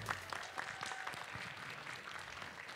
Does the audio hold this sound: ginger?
no